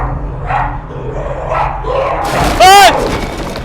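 A dog barks a few times nearby amid shouting and commotion inside a cramped tunnel-like space, the barks rough and loud against a steady low rumble.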